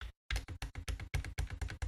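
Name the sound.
space bar of old Focus braille display keyboard pressed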